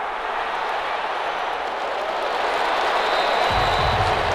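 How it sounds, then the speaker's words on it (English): Sustained video game crowd applause and cheering in a Madden 21 football game, a dense continuous wash of clapping that swells slightly toward the end, with no talking. "How about some applause for the defense there?"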